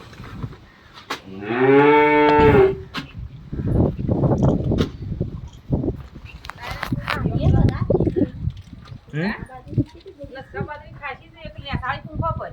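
A single long, loud cow moo rises early in rainy farmland, followed by people talking nearby, with a few fainter animal calls near the end.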